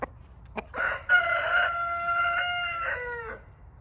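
A free-ranging rooster crows once in the rain, a drawn-out cock-a-doodle-doo heard fairly close, with a few short clucks and bird calls just before it over a faint background patter.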